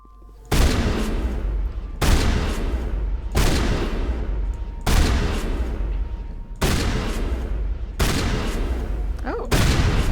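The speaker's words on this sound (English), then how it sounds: "my firing rate on this thing is, well, it leaves something to be desired. But it is a shotgun" Shotgun firing in the Mass Effect video game: seven loud, evenly spaced blasts roughly every second and a half, each a sharp boom with a decaying tail, and no talking between shots.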